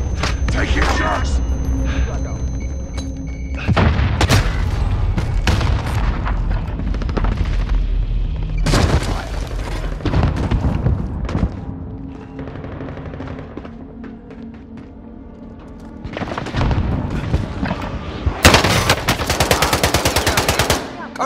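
Heavy machine-gun bursts, single gunshots and booming explosions fill a Call of Duty: Modern Warfare firefight. The loud fire is nearly constant, rises in several intense volleys, and plays under voices calling out to each other.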